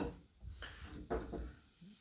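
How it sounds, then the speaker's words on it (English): Grease sizzling in a hot pan for corn muffin pancakes, with soft stirring and scraping noises, close and fairly quiet. "I put a little grease in the pan"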